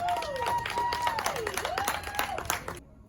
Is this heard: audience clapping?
yes